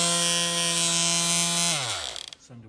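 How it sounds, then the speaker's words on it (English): Electric sander powered from a solar all-in-one inverter's AC output, a close steady high buzzing whine that winds down in pitch as it switches off, ending in a few rattling clicks. "Sander works, so you've got AC out."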